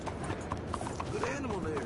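Horse hooves clip-clop in the video game Red Dead Redemption 2, a quick run of close hoof knocks over ambient background while a voice talks alongside.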